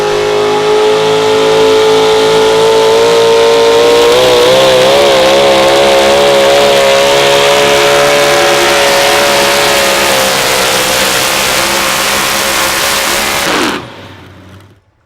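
Thunderstruck Chevrolet modified 4x4 pulling truck roars at full throttle down the track at an outdoor tractor pull, a loud sustained engine howl with rising pitch that abruptly cuts off near the end.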